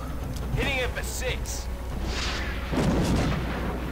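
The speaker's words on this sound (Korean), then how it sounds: "드롱들한테 로켓을 쏘고요" Rocket launch and explosion in the video game XCOM Long War, a whoosh followed by a loud, rumbling blast under someone speaking.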